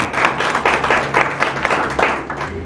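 An awards-ceremony audience claps for a certificate recipient in a runner-up position. The applause is loud and close, with quick, uneven bursts of clapping over a low steady hum and no talk.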